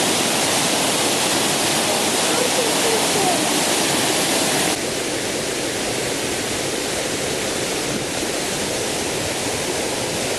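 Water rushes loudly and steadily at Sen Monorom waterfall, a dense, unbroken roar heard close up with no voices.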